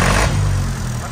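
A tractor engine revs steadily and loudly close by, a dense low rumble that eases off slightly near the end, with no voices.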